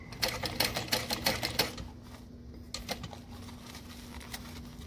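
A sewing machine stitches slowly around the curves of a backpack, a rapid run of close mechanical ticks that stops partway, then a few more scattered stitches over a steady low hum.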